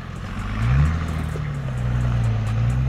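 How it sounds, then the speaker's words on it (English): A Nissan Patrol turbo diesel SUV on aggressive mud tires climbs a dusty off-road hill with rear differential lock engaged, its engine droning loudly and rising in pitch as it strains upward. "using the higher torque of the turbo diesel engine and aggressive mud tire tread, Nissan continues to conquer the climb, throwing out dust clouds"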